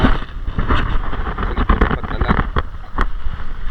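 Strong sea wind buffets a boat, rumbling and gusting against the microphone with splashes and knocks, loud and close, no voices.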